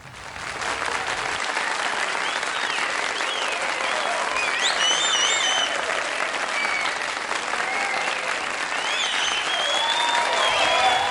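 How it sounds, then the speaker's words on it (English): Applause for students finishing level 3 at a summer recital, sustained clapping from a gathered crowd that starts about a second in, holds steady for roughly ten seconds, and has a few voices mixed in. "big applause"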